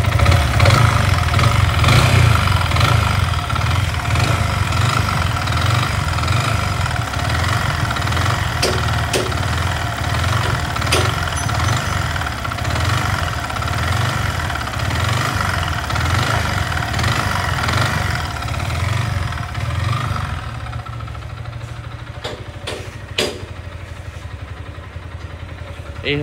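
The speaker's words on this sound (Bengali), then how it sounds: "থেকে অদ্ভুত একটা সাউন্ড আসতেছে, যেটা হচ্ছে মানে বাইরে থেকে মনে হয় আসলে অনেক কিছু, কিন্তু আসলে তা না, এটার পিস্টন থেকে সাউন্ড হচ্ছে" A Yamaha R15 M motorcycle engine idles with a piston-knocking fault. It gives a loud, steady mechanical chatter with rhythmic ticking and knocking that runs throughout, then drops to a quieter idle near the end.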